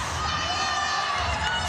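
A stadium crowd roars and cheers at a women's rugby match between the Black Ferns and Canada, a dense, sustained wall of many voices with no breaks across the short stretch.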